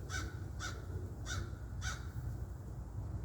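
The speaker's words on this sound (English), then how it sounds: "That is a crow." A crow caws four times in a steady, evenly spaced series, each call short and moderately distant over a quiet outdoor background.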